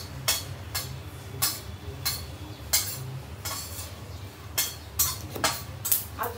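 Nuts and seeds tossed in a dry pan with no ghee, giving crisp rattling scrapes and clinks in a loose, repeating rhythm of about one stroke per second, close-up and moderate in level, without any talking.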